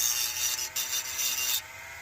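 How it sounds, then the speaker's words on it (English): Small Dremel rotary tool grinding rust and debris off a lawn mower bolt, a steady high-pitched abrasive whir close up with a few slight dips in intensity before it eases off. "I'm just gonna clean the bolt up a little bit."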